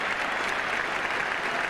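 Cricket crowd applauding around the ground at a 1979 World Cup match between Australia and England, a steady, dense wash of clapping that holds evenly for the whole stretch with no voices on top.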